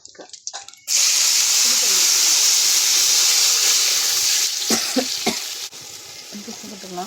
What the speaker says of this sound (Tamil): வரமிளகாய் கருவேப்பிலை எல்லாம் பொரிஞ்சிச்சு இப்போ நம்ம வந்து ரசம் ஊற்றிக்கலாம்